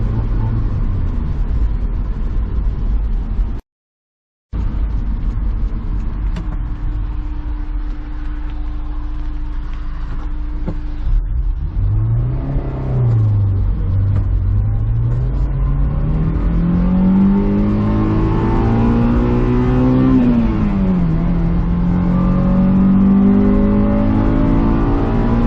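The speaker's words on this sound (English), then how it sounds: "Misfire's not letting up." A Honda S2000 engine with a misfire runs steadily and loudly, rising and falling in pitch as it is revved, with a brief dropout near the start and no talk.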